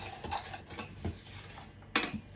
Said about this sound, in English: Right, time to stir this up.